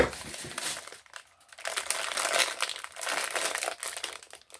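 A plastic shipping package is torn open up close: bursts of loud crinkling and crumpling broken by short pauses, with no speech.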